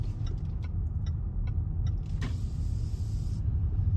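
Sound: car driving around Criccieth

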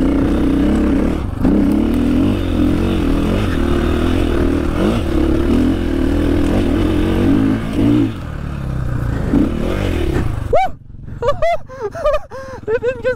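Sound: dirt bike engine revving up an off-road climb

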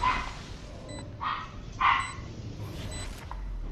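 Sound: puppy barking

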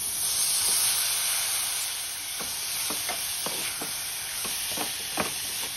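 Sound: frying tomato with mixed vegetables: peas, carrots, beans, cauliflower

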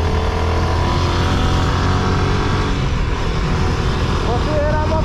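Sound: motorcycle engine revving, throttle worked with the foot

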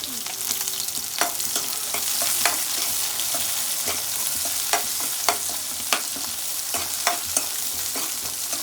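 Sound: onion frying in pan

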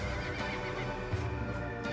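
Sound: Eohippus-like prehistoric horse ancestor calls, documentary sound effect

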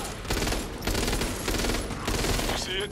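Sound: SCAR rifle gunfire in video game Back 4 Blood

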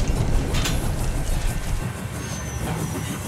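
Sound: old steam train sound effect

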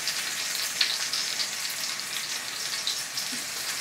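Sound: venison meatloaf searing and sizzling in the pan

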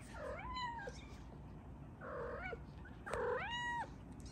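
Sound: mother cat meowing

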